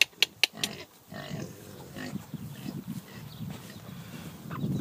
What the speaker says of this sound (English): We got the other pig over there.